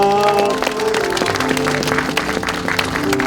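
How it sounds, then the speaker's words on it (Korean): Brief applause from a church congregation at a Christmas tree lighting ceremony by a train station, clapping scattered over a lingering musical tone, moderately loud and close. "우리 서로를 위해서 큰 박수로 환영합니다"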